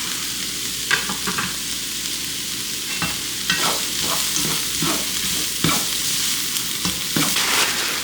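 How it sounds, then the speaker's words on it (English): Garlic sizzling in a hot pan, a steady frying hiss broken by occasional scrapes and clacks of stirring, close and alone with no talk. "I'm gonna add my garlic now and cook it for like another minute."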